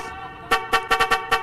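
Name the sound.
car horns honking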